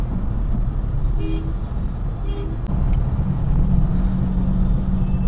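Slow, congested road traffic with cars, trucks and buses, giving a constant low engine rumble close by, with a couple of faint horn toots partway through.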